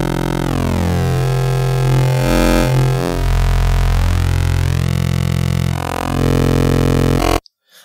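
Massive synth wavetable oscillator in bend plus mode, a raw unfiltered tone sweeping and bending in pitch with rich buzzy harmonics, loud and continuous for about seven seconds before cutting off abruptly.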